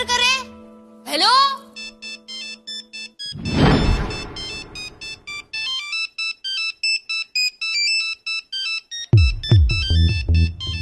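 A phone ringtone plays a repeating electronic melody that goes unanswered, running steadily for several seconds with brief voices and other sounds breaking in between the tones.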